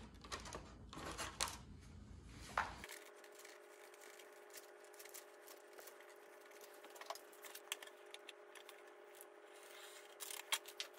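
Close, quiet snips and scraping cuts in Monokote covering film on the fuselage of an RC plane, in short irregular bursts over a steady background hum.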